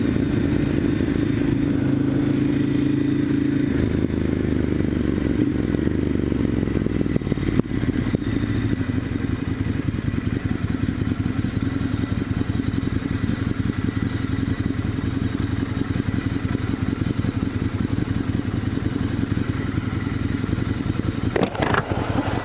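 A Ducati Monster 1100 Evo ridden on roads in Singapore, its engine a continuous loud rumble heard from the rider's position, with steady wind rush and a brief rattle near the end.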